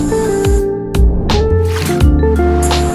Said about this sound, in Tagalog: sinabon-sabon natin yan. Talagang gusot na gusot yan.